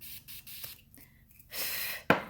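A makeup spray gives a short, close hiss, preceded by quieter handling noises and ending with a sharp click.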